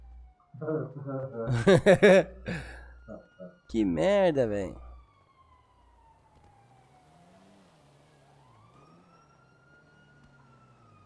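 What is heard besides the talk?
police siren in video game GTA V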